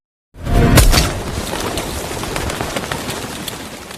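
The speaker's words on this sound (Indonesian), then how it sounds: "Rupasov melakukan tembakan." A gunshot fired in a crime film: one sharp, loud bang near the start, followed by a steady noisy background with faint bird calls and pigeon-like coos.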